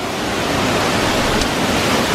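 A loud waterfall roars as a steady, dense wash of close noise, constant and unbroken throughout, with no talk over it.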